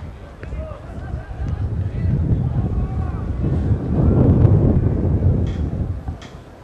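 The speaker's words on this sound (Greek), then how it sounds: "Σε δύσκολες καιρικές συνθήκες οι δύο ομάδες και με δυνατό άνεμο" Strong wind buffets the microphone at a Greek football match between Kerkyra and Veria in difficult weather, rising into heavy gusts under steady commentary.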